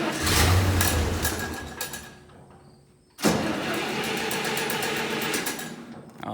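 A Farmall 706 tractor engine cranks and turns over, fades down to near quiet, then catches and settles into a loud, steady rhythmic run close by.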